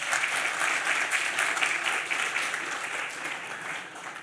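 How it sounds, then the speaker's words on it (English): An event audience applauds the sponsors, a steady, loud sheet of many hands clapping that stays dense and close before easing off slightly toward the end. "Big round of applause for the sponsors."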